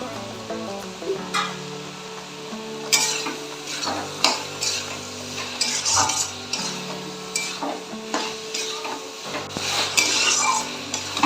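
Chana dal curry with potatoes is stirred in a pan with a utensil: repeated scraping and clinking strokes over a soft sizzle, close and fairly loud, with no speech.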